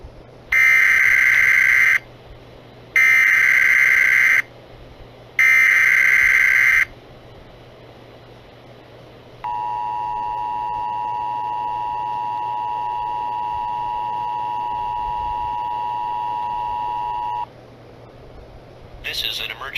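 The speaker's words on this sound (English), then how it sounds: "This is an emergency action notification." Emergency Alert System parody tones in a jumping-cubes video game: three loud, evenly spaced electronic beep bursts, then a pause and a single long, steady droning tone.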